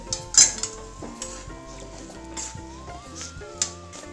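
Chapati filling with mashed boiled potato and salt is stirred and mixed in a pan, with a utensil knocking and scraping repeatedly at close range over soft sizzling and background music.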